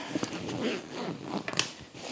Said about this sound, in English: let's go ahead and zip that closed